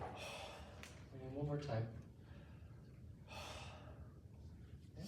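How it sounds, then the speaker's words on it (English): A patient takes slow, deep breaths during a medical examination, with two or three audible inhalations and exhalations, one louder gasp-like intake near the middle, while a clinician speaks briefly over them. "So just nice normal breathing for me."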